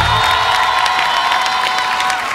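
Studio audience at a Vietnamese TV game show applauding and cheering loudly for a singer before she sings, a dense, steady wall of clapping and whoops with a sustained tone running underneath throughout.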